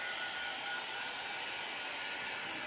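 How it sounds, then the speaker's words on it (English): A heat tool blows steadily to dry a painted craft project, a constant loud whooshing hiss with no breaks and no talking. "We'll dry this with the heat tool."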